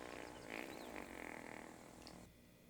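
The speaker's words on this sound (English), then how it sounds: "farting" A fart rips out loud and close, sputtering for about two seconds before cutting off, with no talking over it.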